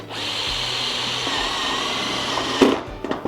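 A power driver runs steadily with a loud, continuous whine as it fastens a pan head screw down through a metal roof panel at the rake edge, then cuts off with a brief clatter near the end.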